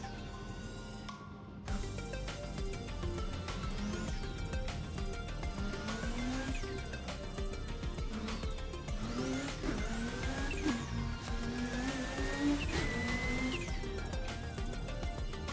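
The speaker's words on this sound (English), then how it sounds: "That turbo noise, though. It's loud." Loud, steady engine and turbocharger roar from inside a Pikes Peak race car lapping the Nürburgring, with rising whistling pitch sweeps as it accelerates, continuous and close, no talking.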